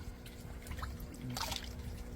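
Bluegill fish splash at floating food in an outdoor aquaponic tank, a faint scatter of small watery splashes and trickles over low background noise.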